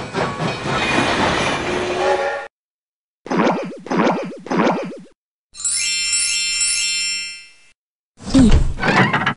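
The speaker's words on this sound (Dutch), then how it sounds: "Daar is de Tuf Tuf trein en die komt heel snel." A toy train from a 1998 Windows children's game, Robbie Konijn Dreumes, rushing past in separate loud bursts: a rumbling run, three quick chugging puffs, a jingling whistle-like chime, then a final clatter, with silent gaps between.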